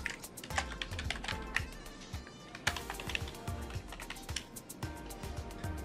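Keyboard typing while a username and password are entered into a browser login page, a quick run of close, crisp key taps with short pauses between bursts, with a faint musical bed underneath.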